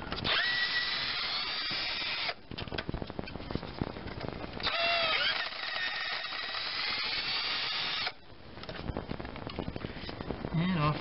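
A power tool removes 10 mm nuts from the upper timing chain guide on a 2003 Chevrolet Cavalier's GM 2.2L Ecotec engine, whirring loudly in sustained high bursts with brief pauses and clattering between runs, close up.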